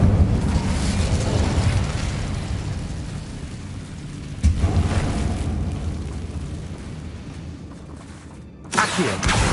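The Incendio fire spell is cast in the video game Hogwarts Legacy, a dense roaring whoosh of flame that swells, fades, then flares again with a sudden burst, loud and continuous, with no voices.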